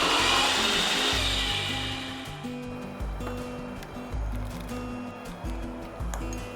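Electric grinder blending chopped onion, tomato and green chilli with a little water into a smooth paste, a loud continuous whirring that settles into a steadier churning hum with rhythmic pulses.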